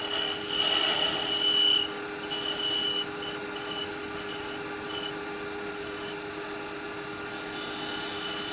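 A wooden birdhouse ornament spins on a lathe while a tool rounds over its end, giving a steady close scraping, rasping hiss with a constant motor hum underneath. The cutting is slightly louder in the opening two seconds, then evens out.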